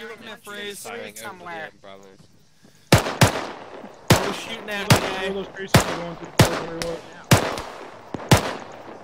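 A machine gun fires in Arma 3 co-op combat, heard as loud, sharp bursts repeating roughly every second after a brief spoken exchange, with voices talking over the fire.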